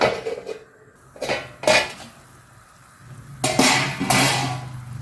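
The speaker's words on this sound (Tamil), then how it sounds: "இப்போ இதுக்கு ஒரு மூடி போட்டு மூடிடலாம்" Metal clanks and scrapes come from a lid being set on a pot of simmering fish curry, with several loud close knocks in two clusters and quiet stretches between them, and no speech.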